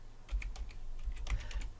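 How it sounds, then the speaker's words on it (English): Someone types on a computer keyboard, a quick irregular patter of soft close keystrokes at low volume with no talking. "God, my typing's awful today."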